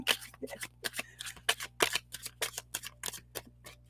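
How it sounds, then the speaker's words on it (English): Cards riffle and snap in quick, irregular bursts, a dozen or so crisp shuffles close by with no talking. "As I'm sitting here just shuffling for you."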